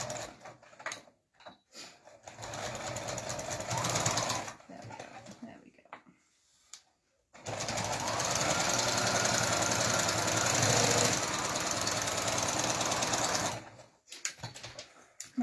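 A sewing machine hems the edge of a quilt, whirring in a steady mechanical chatter during two runs, the second one long, with pauses and quiet handling between them.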